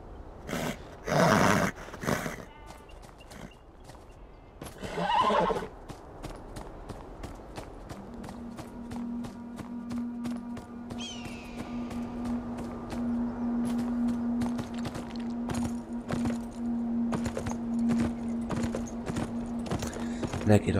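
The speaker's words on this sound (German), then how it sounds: "Dann reiten wir mal zum Brunnen." Hooves clip-clop steadily while riding a horse in the video game Beyond Two Souls, a regular rhythm running throughout, with loud snorting or neighing bursts near the start and a low droning tone later.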